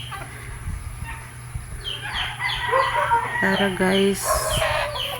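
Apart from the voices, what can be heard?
pet chickens clucking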